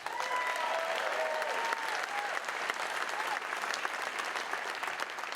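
Loud, sustained audience applause fills a hall at the Maui State of the County Address, a dense wash of clapping with a few faint whistles, steady for the whole stretch.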